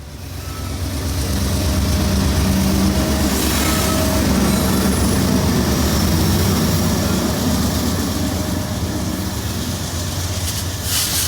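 A BNSF coal train hauled by AC4400CW locomotives, with distributed power, rolls past close by: a loud, continuous rumble of engines and wheels on rail that holds steady throughout.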